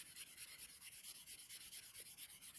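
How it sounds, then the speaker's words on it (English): Rubber rod rubbed with fur to build a static charge, a quiet, steady swishing in regular back-and-forth strokes, close by with no talk. "And then I'm going to rub it with fur."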